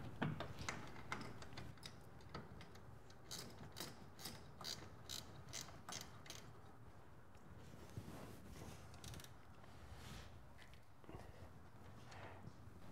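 A hand ratchet tightens two 12mm nuts onto the brake booster of a Jeep JK during a TeraFlex big brake kit install. Rapid, faint clicking comes in quick bursts, close but quiet, over low background noise.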